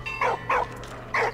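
A dog in Valiant Hearts: The Great War gives three short, bright yips in quick succession, close and clear over a low background hum.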